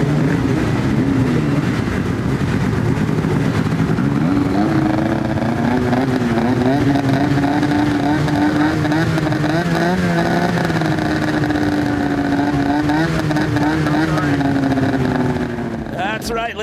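Snowmobile engines revving together at the X Games Aspen freestyle event, a loud continuous whining roar with rising and falling pitch as throttles open and ease, crowd noise beneath throughout.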